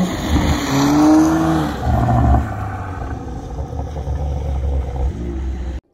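A 2020-up MK5 Toyota Supra revs hard as the throttle is lifted and stabbed again, loud close engine bursts rising and falling with a brief pause between, then a sustained drone that cuts off sharply.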